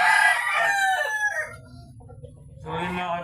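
A rooster crows loudly and nearby, a long drawn-out call, followed by a brief pause and the start of another crow.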